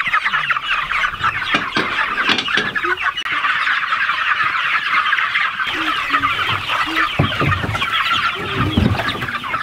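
Chickens clucking and murmuring nearby on a farm as they are shooed out in line, a busy, continuous flock chatter, with occasional soft thumps and movement.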